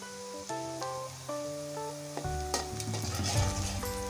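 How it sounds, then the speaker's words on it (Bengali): Whole spices fry in a pan for a coriander-mint chicken curry, giving a soft sizzle that grows brighter and busier toward the end, with some faint background tones and no talking. "এই পর্যায়ে দিয়ে দিচ্ছি গোটা মশলা।"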